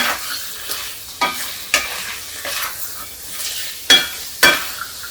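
Turmeric, coriander and red chilli powders roast in a pan for a black chickpea curry, a soft sizzle punctuated by several sharp spoon scrapes at uneven intervals.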